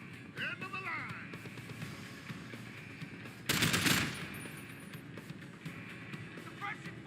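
Machine-gun suppressing fire in Deus Ex: Human Revolution, a dense burst of rapid shots standing out loudly for about half a second amid ongoing in-game commotion, with a voice calling out over the action.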